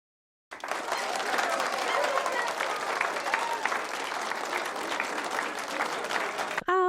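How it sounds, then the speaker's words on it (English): A crowd bursts into sustained applause at a year-in-review presentation for Idaho's Parent Training and Information Center, steady dense clapping held at even loudness for several seconds before cutting off abruptly. "Yay, applause."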